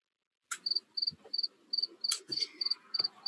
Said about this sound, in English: Tony, you have the crickets.